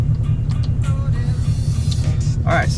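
A white 2016 Chevrolet Camaro SS with bolt-on upgrades, rated around 485 wheel horsepower, drives along with a steady low engine drone filling the cabin, a continuous rumble underneath faint background sounds.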